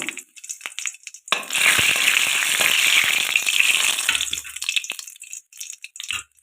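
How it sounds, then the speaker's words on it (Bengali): Dried red chilies fry in mustard oil in a wok, a loud steady sizzle that bursts in after a second and holds for several seconds before thinning into scattered crackles. "কড়াতে দিয়ে দিয়েছি সর্ষের তেল দিয়ে দিয়েছি শুকনো লঙ্কা তো একটু ভাজা করে নেব"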